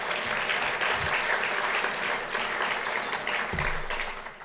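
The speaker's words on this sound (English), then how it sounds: "A round of applause for the silvers." An event audience applauds sponsors at a 50th anniversary celebration, with steady, full-room clapping lasting the whole stretch and a faint voice underneath.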